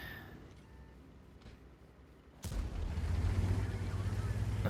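A heavy tank gun fires in an online tank battle game, one sudden booming blast followed by a sustained rumbling roar of the engine and battle ambience, loud and close.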